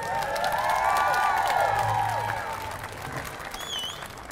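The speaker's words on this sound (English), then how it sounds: "Let's give them another round of applause." Crowd applause with cheering for a jazz band at a downtown tree lighting event, a sustained burst of clapping and whoops that fades slightly toward the end.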